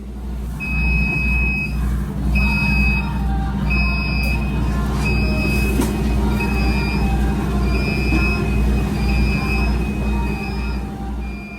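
Philippine National Railways commuter train in Metro Manila, a steady low rumble with a repeating high electronic beeping tone in short bursts over the noise, continuous and fairly loud throughout.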